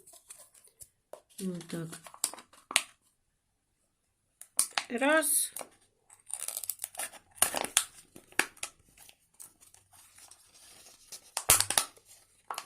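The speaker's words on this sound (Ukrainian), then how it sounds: "Чотири надрізи з чотирьох сторон. Звичайними ножицями." Ordinary scissors snip slits into the root clump of a Sarcochilus orchid being divided, giving short, close crisp cuts scattered between a person's talk and handling rustles.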